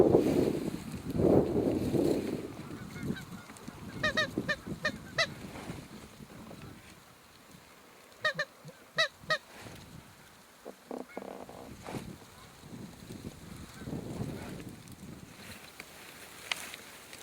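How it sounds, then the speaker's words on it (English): A flock of white-fronted geese honking in the field, calls clustered in several bursts of overlapping honks at moderate distance, with wind and soft background noise between them. "we've seen probably 300-400 honkers heading out north"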